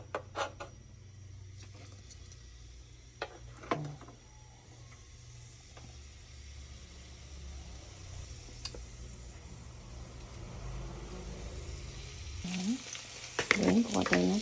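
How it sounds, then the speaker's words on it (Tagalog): Ingredients sautéing in a pan for a home breakfast, a steady low frying sizzle running throughout with a few sharp utensil clicks and a louder scrape of stirring near the end. "gigisa muna natin yung mga dapat igisa"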